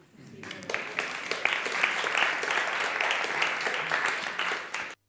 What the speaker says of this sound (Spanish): lo que teníamos que haber hecho todos es aplaudir